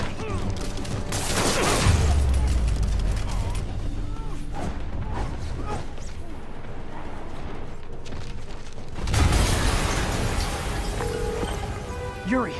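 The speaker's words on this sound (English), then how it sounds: "Yuri, an explosion just... I saw it." A video-game explosion in Spider-Man bursts loud and close, with a rumbling low boom followed by scattered debris and mechanical clatter, then a second heavy blast hits later under the game's dialogue.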